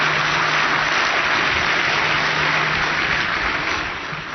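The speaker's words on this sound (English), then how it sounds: "Please give them a warm round of applause." Audience applause at the 2012 ARPA-E Energy Innovation Summit as two speakers come to the stage: a steady, dense wash of clapping that holds loud throughout, easing slightly at the end.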